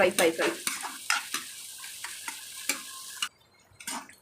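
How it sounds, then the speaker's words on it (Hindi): Onions fry and sizzle in a pan with no added ingredients, and a spoon scrapes and stirs through them in a loose rhythm of sharp clicks. The sound is close and fairly loud, with no voices. "इसको प्याज को अच्छी तरीके से हम करेंगे अब फ्राई खाली फ्राई।"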